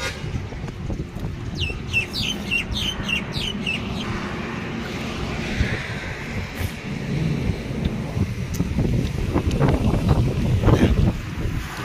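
Strong wind buffets the microphone on a fast-moving vehicle, a loud continuous low roar with gusty surges that swell toward the end, and brief bird-like chirps early on.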